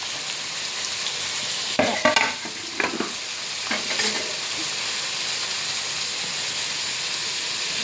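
Chopped tomatoes and carrot being stirred in a hot frying pan, a steady background sizzle with a few clattering scrapes of the spoon near the start, then settling into continuous frying hiss.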